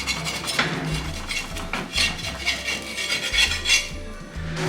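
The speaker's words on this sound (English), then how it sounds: "Remove any leftover dusty flour from the pot" Leftover dusty flour gets scraped out of a cooking pot with metal utensils, giving a steady run of close, rasping metallic scrapes and clanks with no talking.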